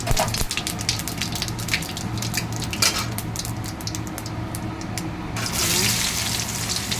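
Cumin seeds and a bay leaf splutter in hot oil, a crackling hiss under clinks of metal utensils and pans in a busy home kitchen, with sharp taps scattered throughout.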